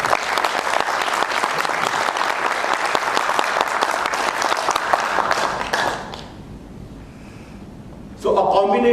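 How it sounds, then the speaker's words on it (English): Loud, dense applause fills a hall at the LIRT-2019 event for about six seconds, then cuts off to near quiet before a voice begins speaking close by. "So how about a huge round of applause for each one of you for your own self."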